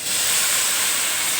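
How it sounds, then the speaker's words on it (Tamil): Water poured into a hot pan of paneer masala over high flame, a loud, steady close hiss of steam with a bright, airy sizzle and no voices. "இந்த பெரிய தீயில் அது தண்ணி ஊற்றிட்டு கொதிக்கட்டும்"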